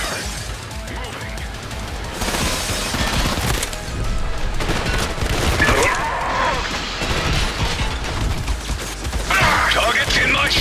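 Sustained suppressive gunfire in the shooter Trepang2, a dense, continuous rattle of rapid shots and impacts that stays loud throughout, with shouted voices mixed into the chaos.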